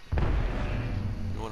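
A frag grenade goes off in the Apex Legends video game, a sudden deep blast followed by a sustained low rumble and rolling debris noise, with a voice faintly present underneath.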